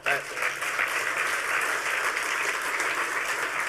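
Sustained audience applause at a hacker conference talk, dense and steady clapping from a large crowd filling the room for several seconds with no talk over it.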